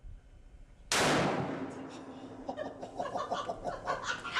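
An anti-aircraft gun fires a single loud, sharp blast close by, followed by a long decaying boom, with reactions and rustling afterward.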